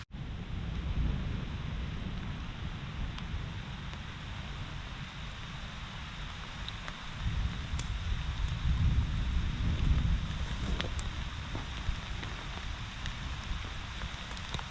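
Steady rain pours down with a low rolling rumble of thunder swelling midway, heard outdoors at a campsite with no shelter, with occasional nearby drips and ticks over the constant wash.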